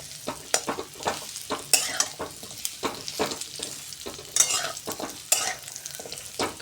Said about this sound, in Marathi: खजूरला पण छान असं आपण तुपावर परतवून घेणार आहे